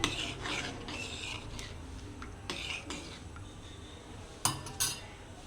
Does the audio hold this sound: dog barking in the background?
no